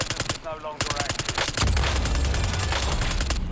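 Rapid gunfire from the video game Call of Duty Warzone Rebirth, a fast rhythmic burst of shots that gives way to a dense, loud, sustained roar of firing and noise.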